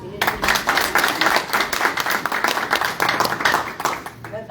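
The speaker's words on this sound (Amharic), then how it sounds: "ከፍ ያለ ጭብጨባ ለኢየሱስ።" A church congregation claps loudly and steadily throughout, a dense, continuous wash of hand claps filling the hall.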